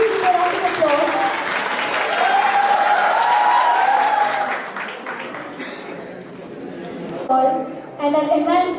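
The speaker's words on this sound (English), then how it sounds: "Please give a round of applause." A crowd at a dental and facial aesthetics conference applauds steadily for several seconds while a voice speaks over it, then the clapping thins out into scattered claps.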